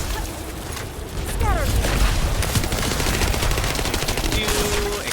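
Explosions and gunfire from the video game The First Descendant: dense, continuous fusillade of shots and blasts filling the whole stretch, loud and busy, with a brief chirping effect and some voice mixed in.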